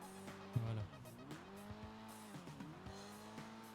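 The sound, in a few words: car engine and tire squeal while drifting, GTA video game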